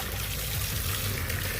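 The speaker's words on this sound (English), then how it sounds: "I'm rinsing this in cool water until it runs clear." Cool water runs and trickles steadily into a tub while tie-dyed fabric is rinsed until clear, a continuous close splashing flow with no voices.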